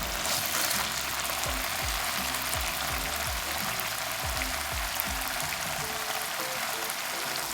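Tofu frying in hot oil, a loud close crackling sizzle with dense popping spatters throughout and occasional stirring clicks, no talk.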